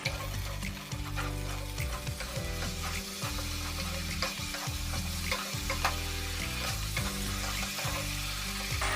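Spices and turmeric fry and sizzle steadily in hot oil for Bengali shukto, with the sputter of stirring and scraping running through a continuous close-up kitchen bed, no voices.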